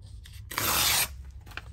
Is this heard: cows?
no